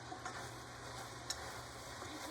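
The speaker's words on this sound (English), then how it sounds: "we're going to saute this for several minutes" Shallots, carrots and peppers sautéing in a pot give off a low, steady sizzle and frying hiss, with one sharp click partway through, and no voices.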